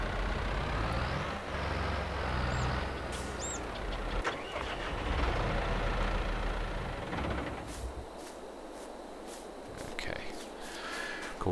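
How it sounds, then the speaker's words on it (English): Noisy tractor engine in the Farming Simulator 22 video game, a loud, continuous low rumble and drone close by that eases toward the end, with a voice talking over it. "You're a fantastic tractor, but you certainly are noisy."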